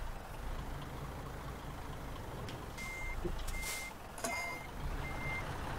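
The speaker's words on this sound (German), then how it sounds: "man hört die ganze Zeit nur so ein Piepen, weil wir beide rückwärts fahren" Truck reverse-warning beeps in the driving game Euro Truck Simulator 2, a steady repeated electronic tone pulsing at even intervals over a low idling engine rumble.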